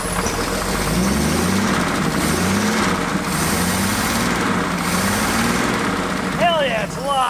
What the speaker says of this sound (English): That's running off the carb. Yeah, that's actually like pumping fuel and working.